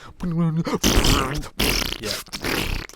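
A wet fart sound effect, a short rippling flatulent burst at the start followed by people talking and laughing over it.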